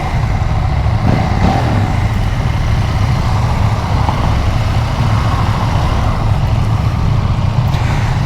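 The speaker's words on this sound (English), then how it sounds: "You can definitely hear a change in the exhaust note now that I'm in dynamic mode." A Husqvarna Svartpilen 801 parallel twin motorcycle engine in dynamic mode rumbles steadily and loudly with a deep exhaust drone, holding a constant pitch throughout with no voices.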